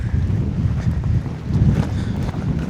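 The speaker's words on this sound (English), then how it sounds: "This wind is blowing." Strong wind blows steadily against the microphone outdoors on a fishing outing, a loud continuous rumbling gust with no talk.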